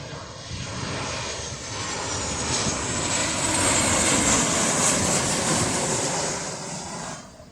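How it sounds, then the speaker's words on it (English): A Jet2 Boeing 737 jet airliner comes in to land near Birmingham Airport, its broad engine roar swelling and fading over several seconds, loud and steady, with no voices. "And we've got another plane."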